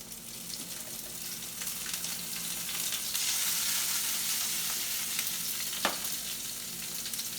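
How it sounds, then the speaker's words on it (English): Garlic and aromatics sizzle steadily in a hot pan in a restaurant kitchen while making maccheroncini alla Norma, a broad continuous hiss with a brief sharp clink near the end. "we're going to throw in our aromatics."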